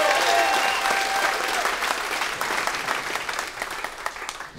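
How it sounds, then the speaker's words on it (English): Loud, dense applause fills a stand-up comedy show, opening at full strength and thinning gradually as the clapping tapers toward the end. "Clap it up for Wes one time."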